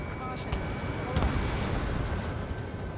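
In the Ace Combat 7 flight game, a missile streaks away from a jet and explosions follow, heard as a dense, continuous roar with a few sharp bursts standing out over the steady engine rumble.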